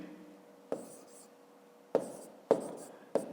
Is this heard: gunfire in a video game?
no